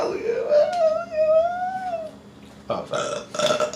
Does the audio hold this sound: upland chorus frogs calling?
no